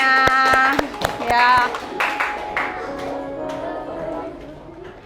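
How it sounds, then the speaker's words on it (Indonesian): Schoolchildren clapping in a classroom after singing a patriotic song, a few sharp rhythmic hand claps at the start that thin out, with a teacher's voice and sung or spoken tones over them. "Ya, tepuk tangan buat kita semuanya"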